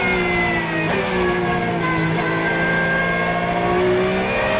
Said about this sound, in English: Take a listen to this straight-piped Ferrari F12.